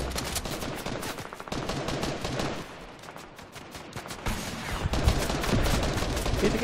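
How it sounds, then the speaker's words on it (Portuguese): Rapid gunfire in the Fortnite video game, dense bursts of automatic shots crackling continuously at close range and growing louder toward the end, with no talk over it. "Eita, quem tá atirando aqui, velho?"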